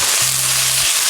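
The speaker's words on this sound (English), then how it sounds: "So this is a stir fry, buddy. We're getting some browning." A stir fry with curry paste, garlic and ginger sizzles loudly and steadily in a pan, a close, dense hiss with a brief low hum running underneath.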